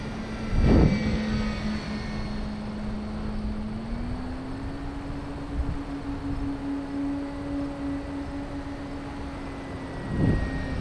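An E-flite Carbon-Z Cub SS 2.1m electric RC model plane drones steadily overhead, its motor pitch rising slightly and holding, fairly faint against outdoor background noise.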